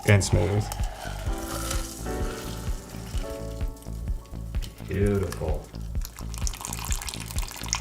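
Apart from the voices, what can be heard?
pouring cinnamon tequila through a fine mesh strainer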